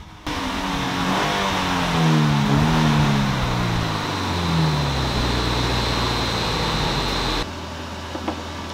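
A car engine revs hard during a baseline dyno power run, climbing in pitch, easing back, then cutting off abruptly, with a steady blower-like hiss behind it.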